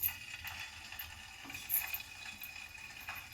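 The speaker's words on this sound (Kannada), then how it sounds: "ಒಂದು 2 ನಿಮಿಷ ಚೆನ್ನಾಗಿ ಆಯಿಲಲ್ಲೇ ಫ್ರೈ ಆಗಲಿ ಗೈಸ್" Cut eggs frying in hot oil, a soft steady sizzle with faint clinks of a utensil against the pan, heard close and alone.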